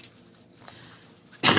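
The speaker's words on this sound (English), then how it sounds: "Sorry about the dog." A dog in a home sewing-room setting gives a sudden loud burst of noise at the very end, after a stretch of quiet room tone.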